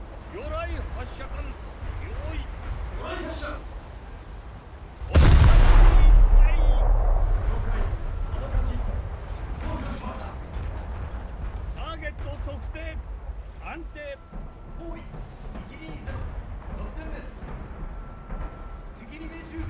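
Warship guns and torpedoes firing in a naval combat video game: a sudden loud, booming blast near the five-second mark rumbles and decays over a couple of seconds, with someone commentating steadily throughout.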